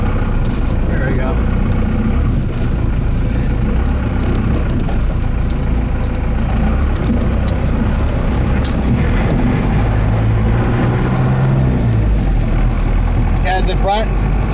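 A four-wheel-drive vehicle fitted with a 1978-79 Dana 44 straight front axle drives along in 4 high, its engine a steady low rumble throughout, with a person talking over it.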